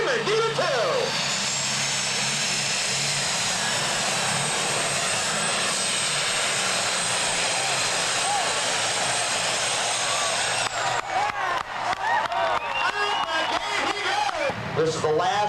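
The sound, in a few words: super stock pulling tractor engine with four turbochargers revving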